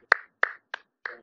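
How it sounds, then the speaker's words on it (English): Four crisp hand claps ring out close and loud at a slightly uneven pace, each one short and sharp, with nothing else heard between them. "Why you are clapping?"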